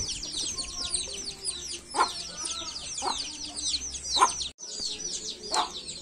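A mother hen gives low clucks at intervals while her chicks keep up a constant chorus of high peeping close by, the clucks standing out every second or so.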